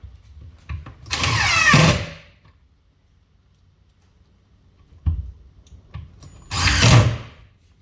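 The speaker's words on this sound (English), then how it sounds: "So now I'm going to screw all these other pieces in" A power drill drives screws into cabinet pieces during cleat-mounted cabinet assembly, two strong whirring bursts separated by a quiet gap and a few small clicks and knocks.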